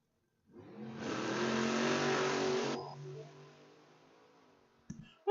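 A drag race car engine at a drag strip roars up hard and loud for a couple of seconds, then cuts off and fades, followed by a couple of sharp clicks.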